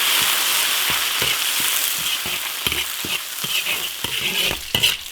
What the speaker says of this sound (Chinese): 烧油炒调料， 生姜、回软的香料、辣椒。